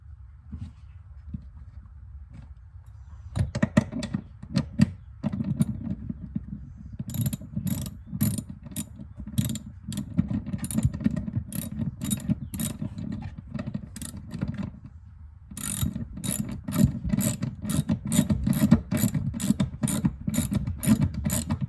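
A hand ratchet runs bolts down on a seat being installed in a 2020 Dodge Challenger Hellcat, giving long stretches of rapid, loud, close clicking that pause briefly and then resume, with no talking.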